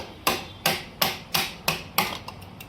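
Five sharp hammer blows ring out at an even pace as a hammer knocks out the gear changer of a Maruti Brezza during gearbox repair, close and loud, followed by a few lighter taps.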